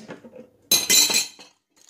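A spoon stirs yogurt cake batter in a bowl, giving a short burst of close clinks and scraping against the bowl after a quiet moment, then a brief faint tap before it stops.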